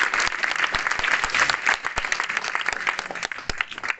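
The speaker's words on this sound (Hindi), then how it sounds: "तालियां बजाते रहो साथ के साथ" A crowd applauds at a political gathering where people join the Congress party: dense, steady, loud clapping from many hands throughout, with no talk.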